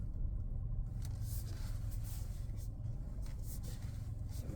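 A car creeping to a stop and parking in a cemetery drive behind a line of vehicles, low engine rumble with tire crunch and faint rustling, quiet and steady from inside the vehicle.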